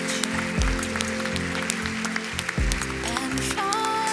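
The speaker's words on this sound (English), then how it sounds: "A big applause to the emerging space leaders from all the world." Audience applause at an international astronautical congress closing ceremony, honouring emerging space leaders, clapping spread under loud music with tonal melody lines and low beats, the clapping mostly masked.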